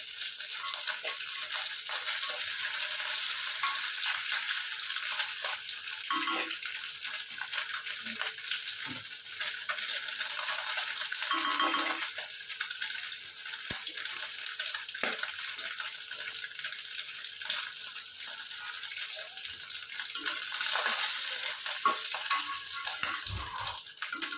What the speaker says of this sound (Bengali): দেখো এইভাবে ডিমগুলোকে ভেজে নিচ্ছি।